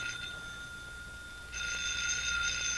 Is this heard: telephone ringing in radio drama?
yes